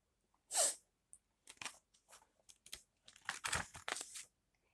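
A loud, sharp sneeze bursts out near the start, followed by a run of short crinkly bursts and scuffling noises in a children's storybook setting with pigs.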